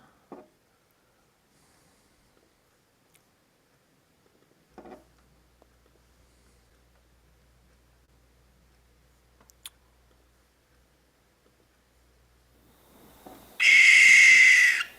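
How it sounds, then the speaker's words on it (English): A barn owl gives one harsh, screeching call near the end after a long stretch of near silence broken only by faint scattered clicks and rustles. "Let's listen to a barn owl."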